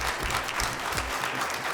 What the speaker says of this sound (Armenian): ծափարում եմ ձեզ մեր Տիգրանի հայրիկին եկեք միասին ծափարենք